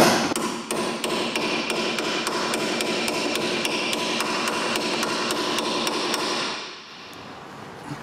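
Rapid, steady hammer blows on a Mini Cooper S front brake carrier during wheel bearing work, close and loud, about twenty evenly spaced metallic strikes that stop near the end, leaving a quieter background.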